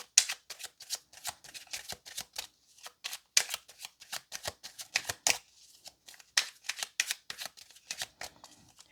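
Tarot cards shuffled by hand in a steady run of crisp riffling bursts, close and fairly loud, with brief pauses between handfuls and no talking.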